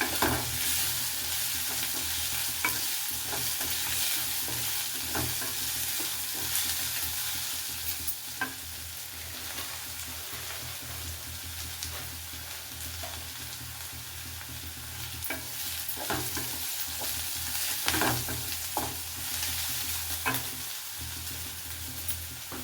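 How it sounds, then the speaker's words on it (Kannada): Curry leaves fry in hot oil in a pan for lemon vermicelli chitranna, with a continuous close sizzle and occasional scraping stirs throughout, no voices. "ಸ್ವಲ್ಪ ಕರಿಬೇವಿನ ಸೊಪ್ಪನ್ನು ಹಾಕ್ಕೊಳ್ಳೋಣ."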